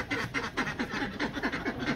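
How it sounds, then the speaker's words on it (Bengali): Domestic geese in a village call out in a quick, rhythmic run of nasal honks, about a dozen close together over two seconds. "বাবু রাজহাঁস দেখছ"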